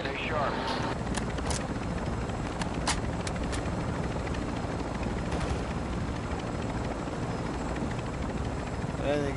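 A helicopter's rotor thrums loudly and continuously in the Warzone 2 DMZ video game, with sharp gunshots cracking over it and voices talking throughout.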